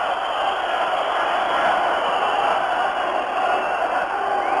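About 3,000 Canadian supporters cheer at game 5 of the 1972 USSR–Canada hockey Summit Series, a steady, dense crowd roar that fills the whole stretch without letup.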